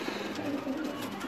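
A Teddy pigeon cooing on a rooftop in Kamoke, a soft, low, brief coo, fairly faint against background noise.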